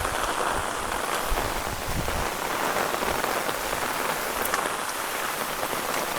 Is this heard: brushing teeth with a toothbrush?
no